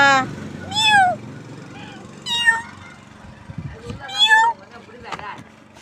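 Kittens on a street give several high, wavering meows, loud and close, spaced apart over a low background hum, with a person speaking softly between the cries.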